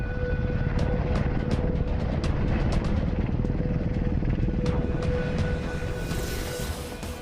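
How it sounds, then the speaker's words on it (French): Helicopter with a steady rotor and engine drone and a rhythmic chopping pulse, continuous and fairly close, fading slightly at the end. "Et le voilà, l'hélicoptère par excellence."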